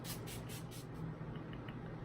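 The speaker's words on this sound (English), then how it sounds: "Natural Finish Setting Spray." Several short bursts of a Wet n Wild Natural Finish setting spray bottle misting over a made-up face, four quick hissing puffs in the first second, close and soft over a low steady hum.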